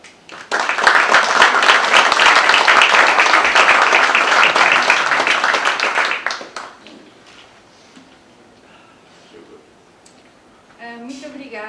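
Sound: audience applause

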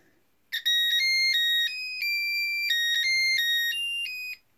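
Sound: LED heart kit playing electronic Happy Birthday melody

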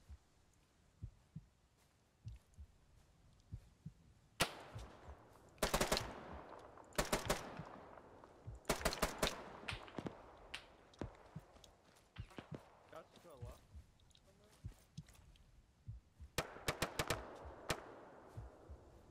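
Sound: full-auto gunfire in the video game Arma 3

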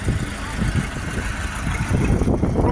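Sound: YuMZ 8280 tractor engine running

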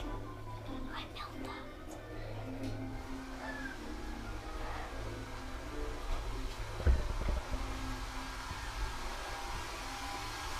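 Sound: hair dryer running

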